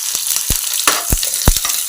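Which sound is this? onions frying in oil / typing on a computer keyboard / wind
onions frying in oil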